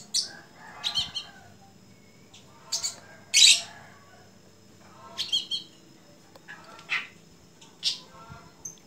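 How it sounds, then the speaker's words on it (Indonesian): Pet masteran songbirds kept in cages sing in short scattered bursts of bright chirps and squawks, separated by brief pauses, fairly close over a low quiet background hum. "Inilah teman-teman burung-burung masteran saya."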